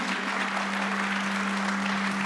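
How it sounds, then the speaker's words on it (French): Steady applause from the audience at a mayor's New Year's greetings ceremony in Fresnes-sur-Escaut, a dense, even wash of clapping with a constant low hum running beneath it. "Venez Denis, venez nous rejoindre sous vos applaudissements évidemment."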